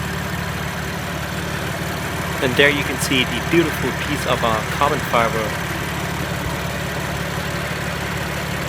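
A 2016 BMW M3 sedan engine idles with a steady low hum that runs through the whole stretch, while someone talks over it in the foreground.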